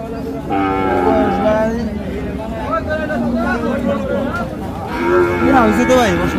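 A Jersey bull calf at a village cattle market moos in several drawn-out calls, up close, while the crowd chatters and murmurs behind it.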